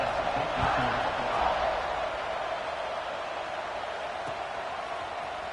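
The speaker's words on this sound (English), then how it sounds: "this crowd is buzzing after that last score" A packed stadium crowd at an LSU vs Alabama college football game buzzes as a dense, steady roar from a distance, swelling slightly at the start and then holding level.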